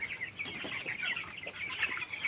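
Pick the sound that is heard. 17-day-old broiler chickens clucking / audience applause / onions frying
17-day-old broiler chickens clucking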